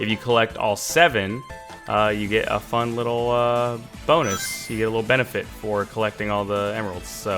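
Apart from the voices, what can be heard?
No distinct noise like a dog, phone or traffic.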